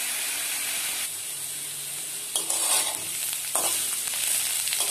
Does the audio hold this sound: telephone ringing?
no